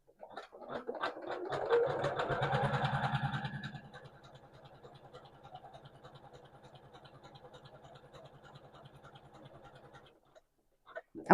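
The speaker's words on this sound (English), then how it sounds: "sew on my sewing machine." A sewing machine in embroidery hoop mode stitching a quilted fabric bow charm, a rapid mechanical chatter that starts loud and fast, then settles into a quieter, steady stitching rhythm before stopping.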